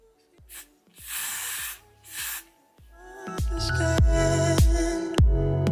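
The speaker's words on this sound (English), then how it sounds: "I'm gonna spray it on my edge" Two short hissing bursts of glue from an aerosol spray can, followed by rhythmic clicks and thumps with music playing in the background.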